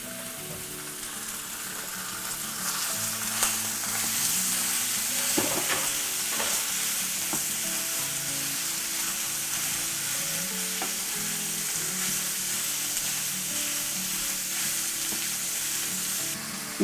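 A pound of hamburger meat browns in a pan, with a steady loud sizzle and the occasional scrape of stirring, continuous and close throughout.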